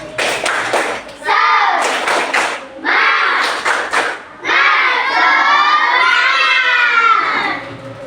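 Third-grade schoolchildren perform a 'tepuk semangat' spirit clapping chant in a classroom, loud bursts of rhythmic claps and thumps alternating with excited shouted chanting, the voices of the whole class filling the room close up.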